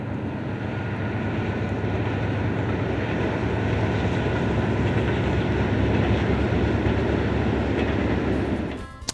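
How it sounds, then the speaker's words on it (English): A westbound grain train led by an SD70ACe locomotive rumbles past in a continuous loud roar of engine and rolling wagons in snowy Knox, Montana, easing off at the very end. "here comes the westbound grain train with an SD70 Ace on the point"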